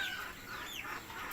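Native hens kept in a home balcony coop that also holds young chicks give short, soft clucks and squawks at moderate distance. No other sounds compete.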